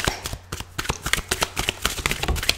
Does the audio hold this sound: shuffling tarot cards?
yes